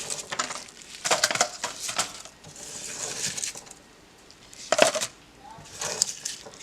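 Garlic cloves are pulled apart from their papery peel outdoors while fall planting in a garden bed, giving several short crackling, crunching bursts of dry skin with quiet gaps between them, close and fairly loud.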